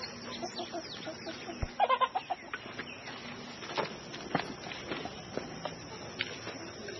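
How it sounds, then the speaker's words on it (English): Chickens cluck and call close by in short bursts, with a rooster-like squawk in the middle and occasional rustling footsteps. "We know there's roosters in here"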